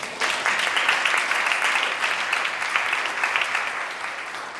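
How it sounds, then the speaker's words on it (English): An audience gives a sustained round of applause for a panel at a law review symposium. Even, continuous clapping fills the hall at a steady level, with no speech over it. "Please give a round of applause to our panel."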